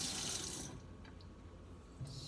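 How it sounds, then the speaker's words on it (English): Water being let into a plant pot for gardening gives a short splashing, hissing pour for under a second, then stops, leaving a faint trickle and a small splash near the end. "I'm gonna go ahead and let a little bit of water into this pot"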